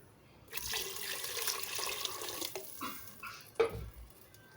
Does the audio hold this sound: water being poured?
yes